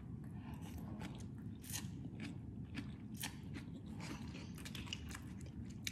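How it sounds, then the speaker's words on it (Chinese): Close, crunchy biting and chewing of bean sprouts from miso-flavoured ramen, a continuous run of moist crunches with no talking. "吃一口那个豆芽菜。"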